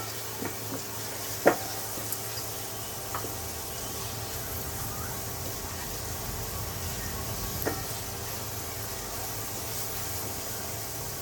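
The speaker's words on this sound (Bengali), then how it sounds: "এটা কিছু সময় ভালো করে ভেজে নিব যেন আলু পেঁয়াজ রসুনের কাঁচা গন্ধটা না থাকে।" Potato, onion and garlic fry for khichuri in a pan with a steady, soft sizzle and hiss, broken by a few sharp clicks and taps from stirring.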